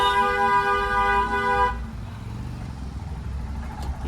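A car horn blares in one long, loud, unbroken honk lasting under two seconds during a driving lesson in narrow lanes. It then cuts off, leaving a low engine and road rumble.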